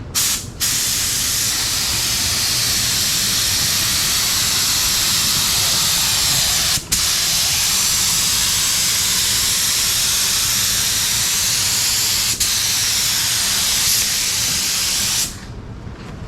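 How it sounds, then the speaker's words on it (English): A spray gun hisses continuously spraying primer on a 1969 Dodge Charger R/T 440 in a long, loud burst, pausing briefly twice before cutting off near the end. "I'll make sure it's good and how it's spraying before I go and hit your windshield area"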